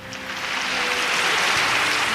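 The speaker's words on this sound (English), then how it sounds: "Cue the round of applause." A round of applause swells and holds steady, dense clapping from a crowd that fills the whole moment without voices.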